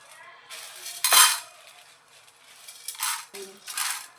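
Dal is tipped into a pan during cooking, with bright metallic clinks and scrapes of a spoon against the pan, a short rattling pour and a few lighter clatters, close up.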